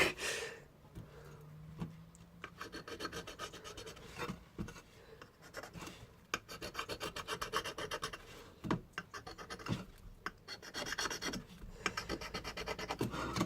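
A hand file rasps steadily across metal while a knife is shaped, making dense, repeated scraping strokes up close that run almost without pause.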